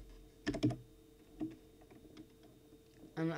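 Light typing on a computer keyboard, with a quick cluster of clicky keystrokes, a few scattered taps, and another short burst at the end in a quiet room.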